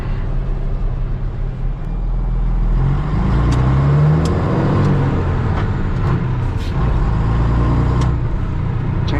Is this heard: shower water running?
no